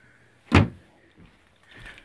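A trailer door catches and bangs once, a single loud close knock followed by faint rattling and shuffling, with no talking.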